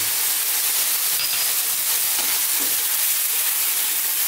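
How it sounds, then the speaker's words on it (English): Fresh tomatoes and fresh chilli sizzle and fry in a beef mushroom curry pan, a constant loud crackling hiss with light stirring, close up and without talk. "I'm now going to go in with those fresh tomatoes and that fresh chilli"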